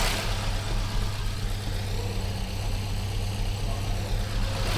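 A Mini car engine idling after its carburettor has been adjusted from running rich, a steady low hum with a broad hiss on top, while a person talks over it.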